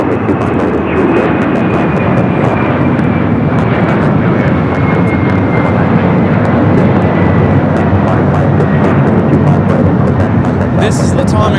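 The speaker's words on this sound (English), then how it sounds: "This is Latam Airlines 2479 taking off to Lima, Peru on the 767-300ER." Boeing 767-300ER jetliner of LATAM Airlines taking off at LAX, a loud, steady roar of jet engines holding throughout with a faint whine, heard from the airport side without talk.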